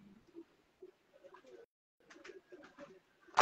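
Pigeons coo in short soft phrases at a pigeon show of rare black-faced Sialkoti birds, with a voice speaking nearby and a sharp click at the end.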